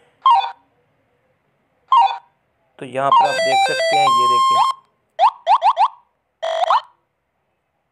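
Retro Snake Xenzia and Brick Game sound effects played on an Android phone: short electronic blips, a rapid rising arpeggio jingle and quick chirping tones, loud and close, with someone speaking briefly at the start.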